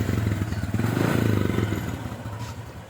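A Honda XRM 125 motorcycle engine idles steadily after a top overhaul, a close, loud, even rumble with a rapid mechanical clatter that eases slightly toward the end.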